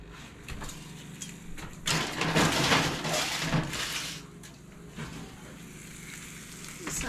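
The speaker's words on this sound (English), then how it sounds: "Some sizzling on the sausage here." Frying sausage sizzles softly in a pan, swelling into a louder burst of crackle midway before settling back to a steady low hiss.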